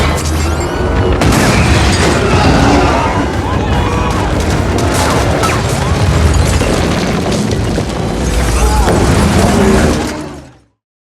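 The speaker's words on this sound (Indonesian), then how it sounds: "Beruntungnya ia berhasil selamat sebelum bom itu meledak." A bomb explodes in a film: a loud, sustained blast of explosions and crashing debris, dense and roaring for several seconds before fading out.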